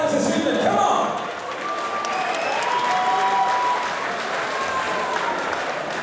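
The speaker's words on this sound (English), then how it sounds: "Ladies and gentlemen, round of applause for both fighters this evening." Crowd applause and cheering fill a kickboxing arena after a 77kg pro K1 bout, a steady wash of clapping peaking early then holding, with an announcer's voice and whistles threading through.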